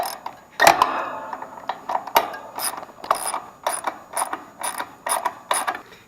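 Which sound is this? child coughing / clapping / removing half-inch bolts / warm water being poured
removing half-inch bolts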